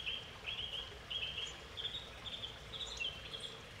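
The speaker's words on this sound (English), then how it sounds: "All those different bird noises is one mockingbird over here that has claimed our backyard" A mockingbird calling in a backyard, giving a steady series of short, varied high chirps and trills at moderate distance over faint background noise, with no talking.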